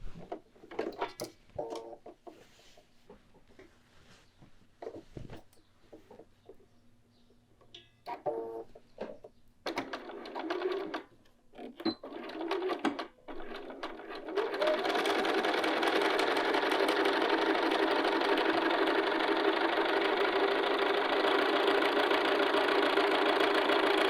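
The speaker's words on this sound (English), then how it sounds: "our final step for the pockets is to top stitch right along our edge stitching 1/4 inch away" A sewing machine top stitching along the edge of a pocket starts up after some quiet handling and rustling, then runs in one steady, continuous whirring burr for the final stretch.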